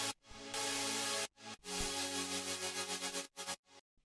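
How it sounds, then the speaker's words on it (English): Layered detuned saw synth built from two Serum patches with a wet chorus, playing loud sustained chords in a future trap drop, broken by short gaps, with no voices. "together, the saw layer sounds like this"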